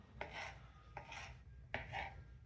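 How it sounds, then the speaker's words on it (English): A serrated knife dicing smoked sausage on a board, three distinct sawing cuts at roughly even intervals, each a short rasping scrape ending in a soft knock, faint and close with no talk. "And then from there, dicing. Still using that serrated knife."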